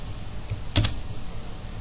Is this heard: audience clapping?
no